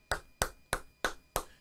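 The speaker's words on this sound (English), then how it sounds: "We give you claps." Five evenly spaced crisp claps from the Madden 23 video game, close and dry, each a sharp single hit with a short tail, alone without talk.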